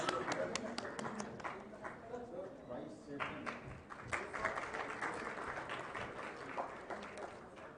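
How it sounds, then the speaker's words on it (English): Audience applause at an accounting webinar event held on stage: a crowd clapping steadily and fairly faintly, with some talk mixed in. "Can we once again have a great round of applause"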